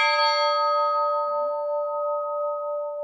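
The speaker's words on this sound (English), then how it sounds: "Now I am going to ring the bell for you." Church bell of St Thomas Episcopal Church, a cast and recast bell, struck once and ringing with a bright, sustained metallic tone that hums on and fades slowly, heard alone.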